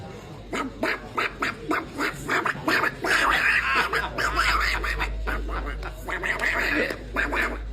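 A voice imitates the Daffy Duck cartoon character on a live show, with a run of spluttering, quacking bursts delivered close and loud over a low background hum.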